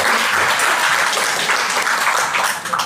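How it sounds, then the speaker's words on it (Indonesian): A crowd at a halal bihalal gathering applauds loudly and steadily, dense clapping filling the whole stretch, close and continuous with no talk over it. "untuk memulai kita tepuk tangan yang kencang"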